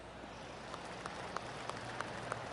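Faint, polite golf claps in the video game PGA 2K25 tap out at a slow, even pace over a quiet background hiss, about half a dozen soft claps.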